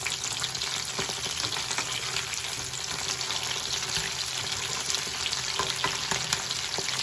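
Chicken pieces frying in a pan and being turned over, with a dense, continuous close sizzle and occasional light scraping, and no talk.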